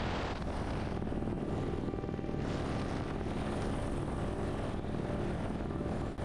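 A helicopter roars steadily and loudly throughout, its rotor and engine noise filling the air near a remote, wave-battered island bay, with some wind buffeting the microphone.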